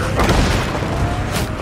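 A grenade blast in the video game Days Gone, heard as a loud, sustained rumbling boom with a broad noisy tail filling most of the clip, close and dense.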